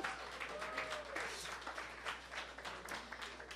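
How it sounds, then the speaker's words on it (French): An audience applauds itself at a theatre season presentation, steady crowd clapping that fills the whole stretch with a low hum underneath, moderately loud and continuous without breaks. "Et applaudissez-vous, applaudissez-vous."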